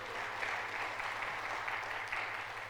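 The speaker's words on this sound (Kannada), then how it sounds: "ಎಲ್ಲರೂ ಜೋರಾಗಿ ಚಪ್ಪಾಳೆಯೊಂದಿಗೆ." An audience at a Shiva Jayanthi celebration in a yoga hall claps together in a steady, moderately loud ovation with a faint low hum running underneath.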